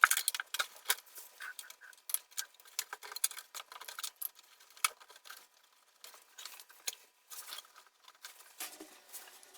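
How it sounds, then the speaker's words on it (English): A 1958 Radiomarelli RD 198 radio chassis is set back into its cabinet, producing a series of close, irregular clicks, taps and small rattles of handled parts with short pauses between. "The chassis goes back in the cabinet."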